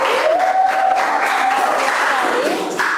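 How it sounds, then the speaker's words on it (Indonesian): Classroom applause for a student group after their presentation, a brief burst of many hands clapping together, with a voice talking over it. "tepuk tangan untuk kelompok 2"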